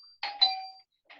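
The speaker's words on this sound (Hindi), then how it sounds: "इतनी घंटियां कौन मार रहा है भाई?" An electronic doorbell-style chime rings twice in quick succession, bright and fairly close, then a third softer ring follows after a short pause.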